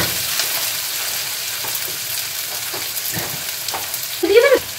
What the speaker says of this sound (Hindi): তোমরা দেখতেই পাচ্ছ পেঁয়াজটা লাল করে ভেজে নেওয়া হলো